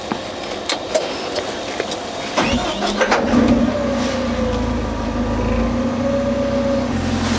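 A heavy hydraulic excavator engine cranks over and fires up, then settles into a steady, rumbling idle.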